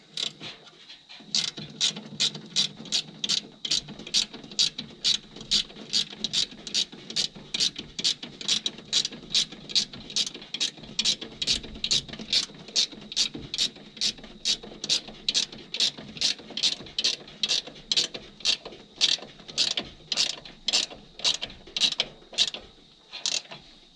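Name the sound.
ratchet tightening bolt on 1967 Chevy II front brakes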